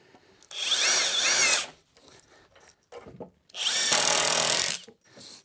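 Two loud bursts of a power drill driving screws into wood while building shelves, each about a second long, separated by quiet handling noises and light knocks.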